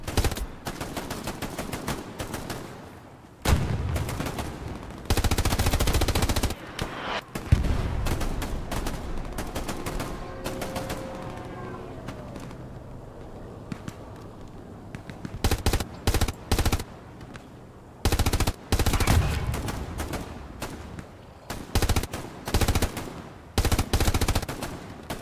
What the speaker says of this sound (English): Go ahead and lay down some suppressive fire.